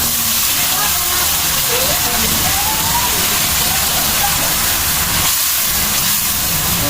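Mutton karahi frying in a pan just after a cup of yogurt goes in, giving a loud, continuous sizzling hiss with bubbling close by throughout.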